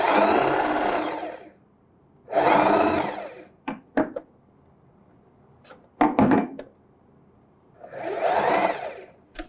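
A sewing machine stitches a dish towel in several close, steady runs with pauses between, including a reverse stitch, broken by short clicks and handling knocks; no talking.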